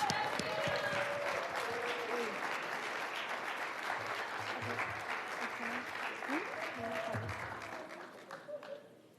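A summit audience applauds award changemakers honored at a Hispanic leadership event, a steady, dense wash of clapping filling the hall for several seconds before tapering off at the end, with faint voices and tones mixed in.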